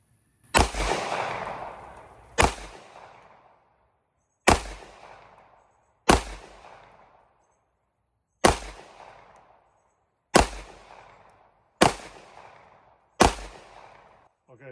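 A Springfield Echelon pistol fires eight sharp, loud shots at irregular intervals on an outdoor range, each crack followed by a short echoing decay and silence between.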